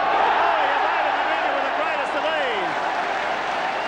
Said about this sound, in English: Applaud that, they loved it.